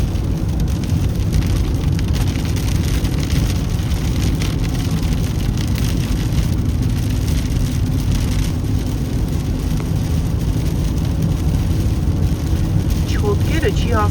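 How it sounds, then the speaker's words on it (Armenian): Heavy nighttime rain pounds a moving car, overwhelming the wipers, in a dense, constant roar of water on the body and glass mixed with low road and engine hum that never lets up. "Չոտկերը չի հասցնում մաքրի, այնքան ուժեղ է անձրևը գալիս"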